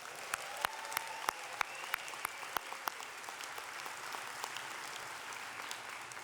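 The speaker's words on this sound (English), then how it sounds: "Let's give them a round of applause." An arena audience at a 2025 law school commencement ceremony gives the musicians a round of applause. A steady wash of clapping runs throughout, with sharp individual claps standing out in the first few seconds.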